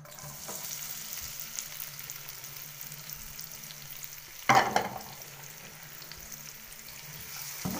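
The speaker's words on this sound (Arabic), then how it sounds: "خلاص كده السمنه، هنحط بقى البصل، ننزل عليها بالبصل." Onions sizzling and frying in hot ghee for Egyptian bessara, a steady crackling hiss throughout with a brief louder burst midway, as if stirred or newly dropped in, no voices.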